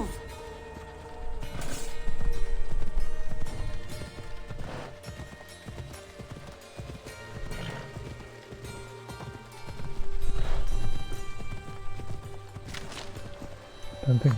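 Horse hooves gallop in Assassin's Creed Odyssey, a steady rhythmic clip-clop running throughout under game music and effects, with a voice talking over parts of it.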